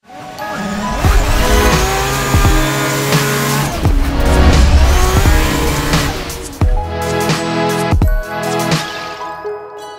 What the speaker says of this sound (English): drifting a race car like this right here, it's very expensive